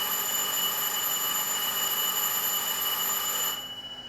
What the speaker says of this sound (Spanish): Tenemos la nueva alarma de incendio, ¿no?